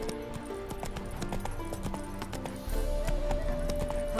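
Roach the horse gallops in The Witcher 3 Wild Hunt, with rhythmic hoofbeats that stay close and clear. Partway through, a steady low rumble and a sustained tone rise underneath.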